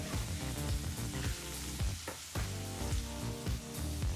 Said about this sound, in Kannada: ಸರಿಸುಮಾರು ಎರಡರಿಂದ ಮೂರು ನಿಮಿಷ ಮೀಡಿಯಂ ಫ್ಲೇಮ್ನಲ್ಲೇ ಈರುಳ್ಳಿನೆಲ್ಲ ಫ್ರೈ ಮಾಡಬೇಕಾಗತ್ತೆ